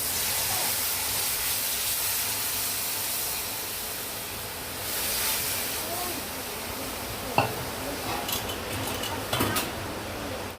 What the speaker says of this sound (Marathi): त्यामध्ये आपण तयार केलेले कोळीत पिठाचे मिश्रण ॲड करूया